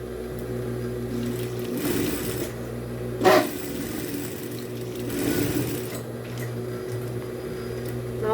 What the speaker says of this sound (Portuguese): Uma costurinha de segurança. Só para pregar mesmo o bolso aqui no corpinho da carteira.